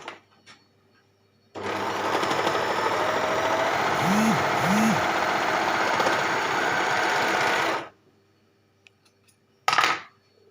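An overlock sewing machine stitches a rolled seam in a steady fast whirring run of about six seconds that cuts off abruptly, followed by a brief clack; quiet before and after.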